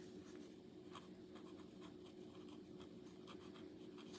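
Fountain pen nib, freshly greased, scratching across paper in steady continuous strokes, close and quiet, with faint rhythmic scratches and no talk.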